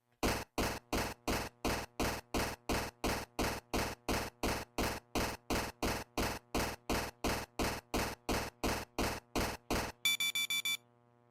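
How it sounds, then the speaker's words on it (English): A wristwatch beeping in the video game Subnautica: Below Zero: a long run of evenly spaced electronic beeps, about two a second and steady in loudness, ending in a brief burst of quicker tones. "A beep emanates from your wristwatch."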